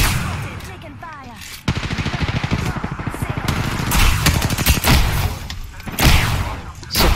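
Rapid automatic gunfire in a military shooter video game, rattling bursts close and loud, broken by louder blasts, with game voices talking through the barrage.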